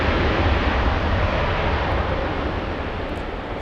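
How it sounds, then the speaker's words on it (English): Large Lufthansa airliner at LAX, a continuous low jet engine roar with heavy rumble, steady and fairly near, easing slightly toward the end, no voices. "Lufthansa, ein großes Flugzeug."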